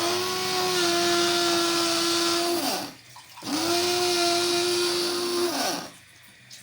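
A kitchen blender grinds poppy seeds with a little water in two loud, steady whirring bursts, each spinning down to a brief pause before the motor starts again.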